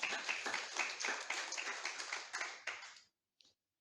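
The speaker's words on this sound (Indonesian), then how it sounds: "Yang setuju berikan tepuk tangan yang paling meriah." A church congregation at an online worship service claps hands in a lively burst, fairly brisk and close, then stops abruptly, followed by one brief faint clap after a short silence.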